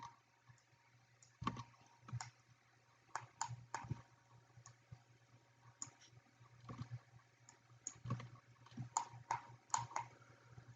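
Computer keyboard keys and a mouse clicking during 3D modeling work in Maya, with irregular bursts of sharp, close clicks and taps spread throughout, some in quick clusters, with no talk.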